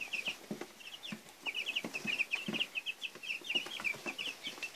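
Young meat chickens cluck and peep indoors, a busy chorus of soft clucks and rapid high cheeps, moderately close but fairly faint.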